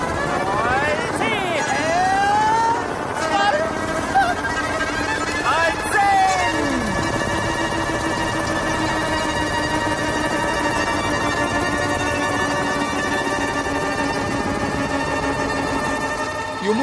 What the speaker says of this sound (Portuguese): o motor do helicóptero está soando o tempo todo junto.